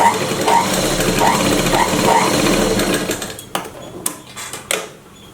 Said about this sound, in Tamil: பண்ணிட்டு இப்போ தைக்கலாம்.